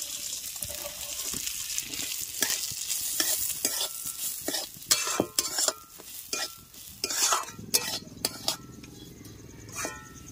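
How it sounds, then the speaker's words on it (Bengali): Washed mung dal frying in hot ghee in a kadai (wok) gives a steady sizzle, broken by repeated scraping stir strokes and light clinks of a spoon against the pan, close and fairly loud throughout. "কড়াইটা গরম করে সবার প্রথমে আমি মুগ ডাল ঘি দিয়ে ভেজে নেব।"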